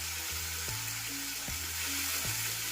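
Ground spice paste hisses and sizzles steadily in a pan over cumin seeds on a medium flame, with dull periodic knocks of stirring beneath the constant close frying noise.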